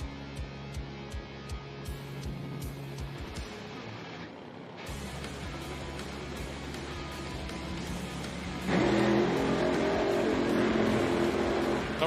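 A Fuel Funny Car drag racer, a 2,600-pound nitro machine, doing a burnout at an IHRA outlaw nitro meet: a loud, sustained roaring engine with a sharp cutoff midway, then a rising, harsher blast heard from a distance.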